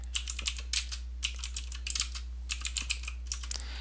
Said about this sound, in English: I'm going to type sales last year.